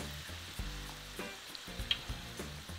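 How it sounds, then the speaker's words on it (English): Zucchini flowers frying in oil for an Italian recipe, a steady close sizzle with bursts of crackling and spatter, no voices. "Fry them until the bottom is crispy when you tap it with a fork"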